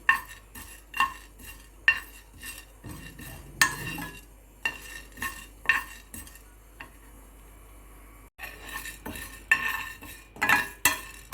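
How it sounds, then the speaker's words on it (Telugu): Urad dal and chana dal dry roasting in a pan, with a spoon repeatedly scraping and clinking against the metal in irregular sharp strokes, a quieter stretch midway, then more brisk stirring. "ఒక స్పూన్ మినపప్పు ఒక స్పూన్ శనగపప్పు తీసుకొని డ్రై రోస్ట్ చేసుకోండి"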